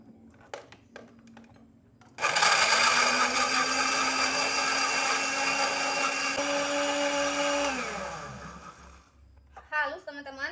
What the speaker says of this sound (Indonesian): langsung aja ini Bunda mau blender dulu ya